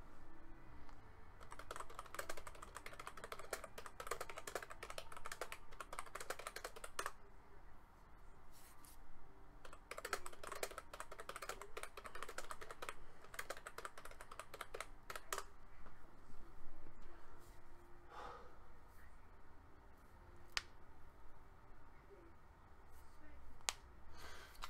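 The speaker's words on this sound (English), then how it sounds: "I'm gonna type out a lot of this stuff" Typing on a computer keyboard, heard as steady bursts of quick key clicks that pause and resume, quiet and close, with no talking.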